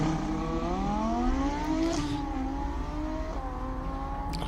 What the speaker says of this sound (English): I love the sound of that Audi.